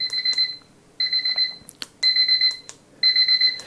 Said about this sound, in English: this is a very, very loud alarm clock